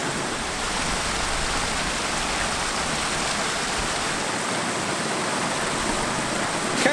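Steady rushing roar of waterfall cascades in the Brecon Beacons, a broad constant wash of water at close range with no break or voices.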